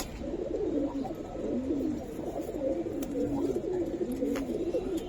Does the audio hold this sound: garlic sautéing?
no